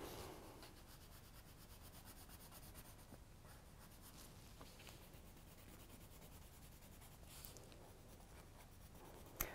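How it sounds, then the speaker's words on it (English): A blue colored pencil scratches across paper in a children's art lesson, a quiet, close, continuous rubbing with short strokes and a brief tap at the end. "Maybe I'll do a blue colored pencil."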